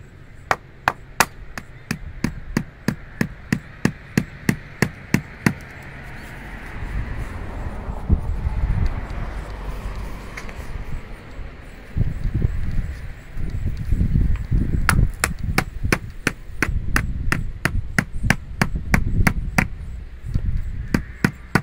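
Wooden dowel rods are hammered into the ground in sharp, rhythmic, close strikes. The blows come in fast runs, pause for a stretch of rustling and wind-like noise, then resume in another quick series.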